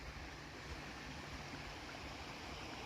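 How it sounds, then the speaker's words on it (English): A river flowing steadily, a continuous broadband rush of moving water heard from nearby with no breaks and no voices over it. "That's the river."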